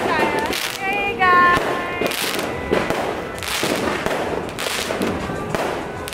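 Dense New Year's Eve fireworks and firecrackers go off in the Philippines, with repeated loud bangs and crackling bursts layered over a constant roar. Voices can be heard faintly through the noise.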